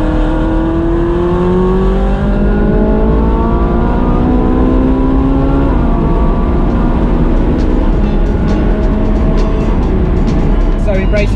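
A Ferrari 458 in race mode revs hard and accelerates through the gears, its loud engine note climbing and dropping with abrupt shifts, continuous and close throughout.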